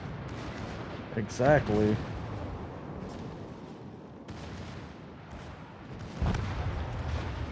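Secondary guns on a warship in World of Warships fire as dull, booming thuds, a few scattered reports at mid distance under steady engine and sea rumble, with a short spoken reply.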